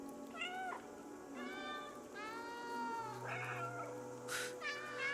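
A cat meows repeatedly in long, drawn-out cries over a steady background hum, one after another, in the video game Stray.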